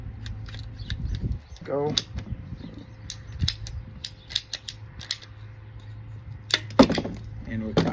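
A sprinkler system pipe is cut with a hand tool, a series of close mechanical clicks, creaks and squeaky ratcheting snips, with a person speaking briefly.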